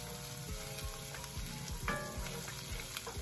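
Garlic sizzles in butter in a pan alongside spinach for creamy baked eggs, a steady close crackling fry with occasional stirring scrapes and no talk.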